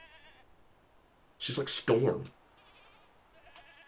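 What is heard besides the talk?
goats bleating in the video game Mundaun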